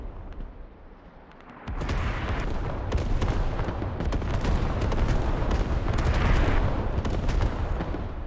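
Artillery in a military video game strikes an outpost, starting with quieter distant rumble before a sudden heavy barrage erupts into sustained loud booms and crackling blasts.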